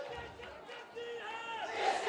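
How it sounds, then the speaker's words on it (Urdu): Crowd chanting slogans at a hotel in Lahore, a mass of voices raised together in rhythmic shouts that build louder toward the end, with no single speaker standing out. "یہ نعرے کہیں اور نہیں، لاہور کے عواری ہوٹل میں دن دہاڑے لگائے جا رہے ہیں"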